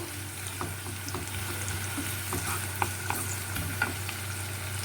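Onions fry in a pan with a steady low sizzle, stirred now and then with soft scraping clicks, close and moderately quiet with no voices.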